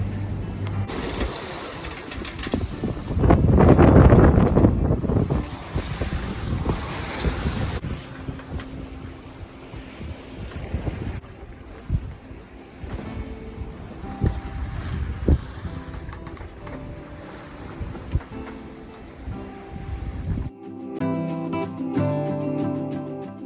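Sailboat in a rolling sea crossing the English Channel toward Le Havre, France, with steady wind noise buffeting the microphone, water washing against the hull and occasional creaks, ending with a brief faint musical tone.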